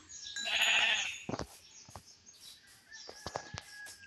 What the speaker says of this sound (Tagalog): Magtingin na lang tayo ng tupa, no?